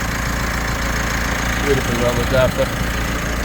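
A 2019 Mitsubishi Pajero Sport GLS 4x4 with a 2.4-litre turbo diesel common rail engine idles with a steady low rumble, while someone speaks briefly over it.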